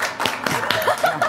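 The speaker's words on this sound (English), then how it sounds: "He's clapping for himself" A man clapping for himself on a televised lottery game show stage: a few close, uneven claps over about a second, mixed with crowd noise and light laughter.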